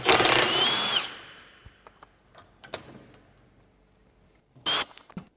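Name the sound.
power tool undoing bolts on a Range Rover chassis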